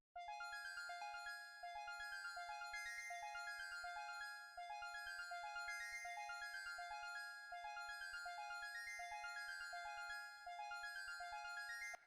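A plucked synth loop from Analog Lab 5 in FL Studio, with bright clean notes in an even repeating pattern that jumps up and down between two octaves, played alone and clear.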